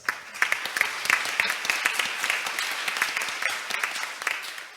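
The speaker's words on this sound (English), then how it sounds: "Let's give a round of big applause." Audience at an international development conference session in Seoul applauds a panelist with dense, steady clapping that holds at an even, moderate level throughout, with no voices over it.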